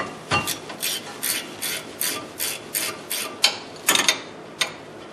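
An 18mm wrench working the wheel hub bracket bolts on a 2003 GMC Jimmy, a rhythmic series of about eight short metallic ratcheting rasps, followed by a few sharper clanks.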